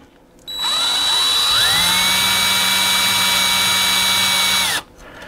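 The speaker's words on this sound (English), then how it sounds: "So I'm actually gonna start drilling straight" A power drill whirs up and runs at a steady high-pitched whine for about four seconds, then stops abruptly; loud and close.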